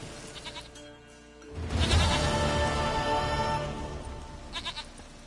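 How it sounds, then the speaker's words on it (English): A goat bleats in The Witcher 3, a faint quiet lead-in, then a loud drawn-out bleat that swells close up and fades over a few seconds, with no talking. "Goat of mine, dearest, sweetest goat."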